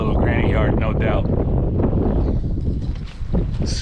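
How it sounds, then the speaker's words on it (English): Strong wind buffets a microphone outdoors by a backyard fence on a cold day, a steady loud rumbling roar that continues throughout without talk. "Super windy and cold"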